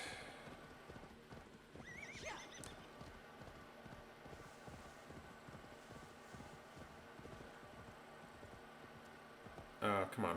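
Horse hooves clip-clop in a steady, continuous rhythm during a video game, with a neigh near the start and another toward the end, all at moderate level under occasional game ambience.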